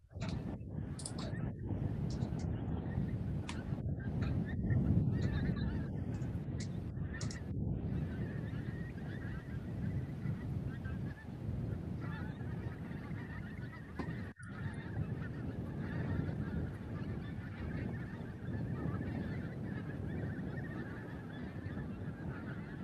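A flock of wild geese flying in at dusk over Montrose Basin Wildlife Reserve, honking steadily at a distance, with the calls building and overlapping across a continuous outdoor wash, and a voice talking now and then.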